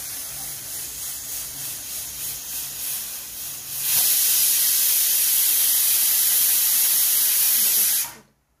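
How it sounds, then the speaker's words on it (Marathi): A pressure cooker cooking masala rice lets off steam: a softer, pulsing hiss first, then a loud, steady whistling rush of steam for about four seconds that cuts off abruptly. "मसाले भाताची शिट्टी होत आहे."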